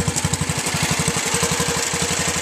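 The 11 hp Briggs engine of a 1979 Dynamark 11/36 lawn tractor runs close by with a steady, rapid pulsing chug and no one talking.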